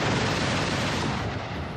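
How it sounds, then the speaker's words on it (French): A helicopter firing missiles, heard as a dense, loud burst of rumbling fire that fills the moment and slowly fades. "l'hélicoptère cabre prend soudainement de la hauteur et fait feu"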